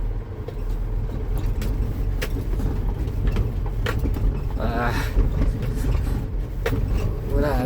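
A Lalamove 2000 kg delivery truck rumbles over a rough, potholed road, its engine droning steadily under jolts and rattles, with someone talking over it at times.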